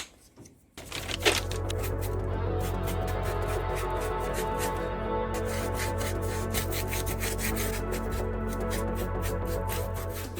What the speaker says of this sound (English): we are gonna do some quick dry brushing on here just in the dirt, and then on this the cobblestone